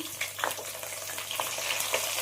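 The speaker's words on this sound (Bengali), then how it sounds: "এবার আমি ওই তেলের মধ্যে সবজিগুলো একে একে ভেজে নেব। এখানে দিয়ে দিলাম শিম" Flat beans hiss and crackle steadily in hot oil, a near, continuous sizzle with occasional sharper pops, frying alone for undhiyu.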